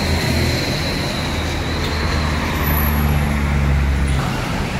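Cars and buses flow along a busy road, making a steady, close rumble of engines and tyres with a faint high whine drifting through.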